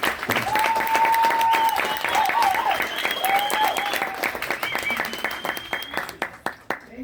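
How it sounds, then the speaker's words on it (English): Audience applause for young people at a community-based education forum during Africa Celebrates 2025 at the United Nations, steady dense clapping with whooping and cheering voices over it, thinning to scattered claps at the end. "I need a real round of applause for these young people who are doing this amazing work"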